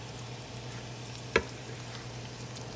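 Sweet potato greens dropped into a pan of hot bacon fat, a sudden sharp hit followed by a steady low sizzle, close and without talk.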